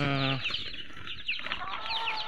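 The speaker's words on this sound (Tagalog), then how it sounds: "Mga manok po yan. Puro manok." Chickens cluck and cackle close by, a busy overlapping chorus of hens with a rooster-like call at the start.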